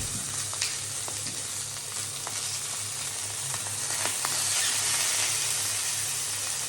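Sausages sizzle and spit in a hot pan during a full English breakfast cook, a dense continuous crackle with occasional sharp pops, close up and growing slightly louder, no talking.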